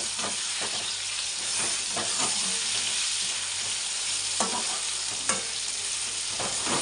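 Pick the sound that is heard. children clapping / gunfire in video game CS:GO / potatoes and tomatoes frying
potatoes and tomatoes frying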